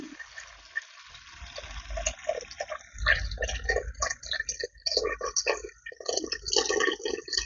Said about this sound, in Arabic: غادي نزيد الماء سخون.